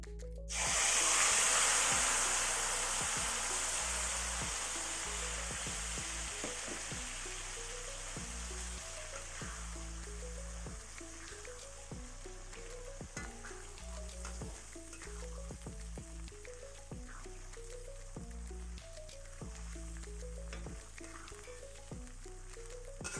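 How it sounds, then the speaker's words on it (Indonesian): Green chilies sizzle and crackle steadily as they fry in oil in a pan, a loud burst at first settling into a constant hiss, with music playing underneath. "Lalu kita goreng."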